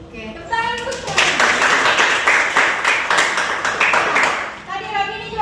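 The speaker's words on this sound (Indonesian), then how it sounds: "Oke, tepuk tangan untuk semua." Applause from a classroom of students, a burst of clapping that swells for about four seconds before fading, with a teacher talking just before and after it.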